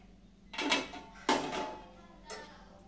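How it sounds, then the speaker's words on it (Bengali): A lid lifted off a cooking pot holding Bengali katla fish rezala, giving two short metallic clatters close by and a softer clink after, over a faint steady hum. "চলো ঢাকনাটা খুলে এবার দেখে নিই।"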